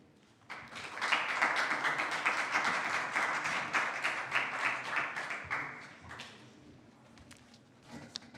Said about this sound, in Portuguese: a quem eu peço um aplauso